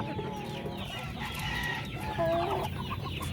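Hens clucking close by in a farm setting, a series of short soft clucks and calls over a low background murmur.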